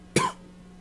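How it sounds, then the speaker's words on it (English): A single short cough, close and fairly quiet, stands alone against a faint steady background hum. "I've got a bit of a cough."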